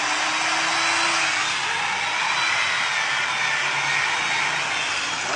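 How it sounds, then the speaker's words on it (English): An angle grinder runs steadily as a loud, continuous high-pitched whine with a broadband hiss, powered from an improvised earth-electricity setup outdoors in bright midday sun, with no talk. "we will see if we get now an angle grinder to run"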